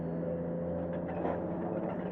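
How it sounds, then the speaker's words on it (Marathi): A low, steady engine rumble and hum fill the inside of a moving bus, even and quiet with no talk. "आता सध्या बसमध्ये आहे"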